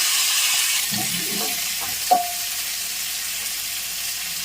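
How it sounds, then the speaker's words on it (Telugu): A steady, hissing sizzle of beetroot and chana dal frying in hot tempering oil without water, with a short metallic clink of a utensil partway through. "మనము వాటర్ లేకుండా బీట్రూట్ శనగపప్పుని పోపులో వేసేసుకోవాలి"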